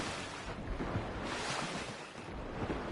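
Water swirls and washes steadily as a character swims in Fortnite, a continuous surf-like wash with some wind-like hiss and no voices.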